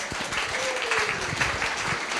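Audience applause at a business talk, a steady round of clapping filling the room for the whole stretch with a few faint voices underneath.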